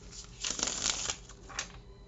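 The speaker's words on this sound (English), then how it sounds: "You saw that shuffle, right?" A deck of playing cards being shuffled up close, a quick riffling burst of flicking card edges lasting about a second, followed by a shorter second riffle, with no talk.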